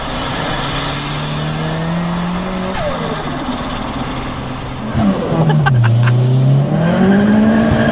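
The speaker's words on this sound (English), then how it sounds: "Oh my God, that turbo noise." A loud turbocharged Ford Escort Mk6 with a swapped-in Focus RS engine, about 360 bhp, revs hard and climbs in pitch, drops back, then surges again, with a whistling turbo whine over the roar.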